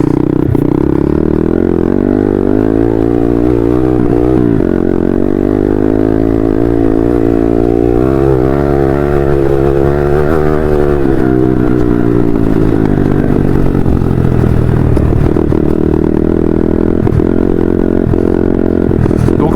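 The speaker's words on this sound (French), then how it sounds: "Donc cette moto va à peu près sur du plat à 90, hein, voilà, c'est pas une petite moto" A mid-size motorcycle engine runs loud and close on a ride, its drone rising and falling as the rider revs and shifts, with steady mechanical rattle throughout.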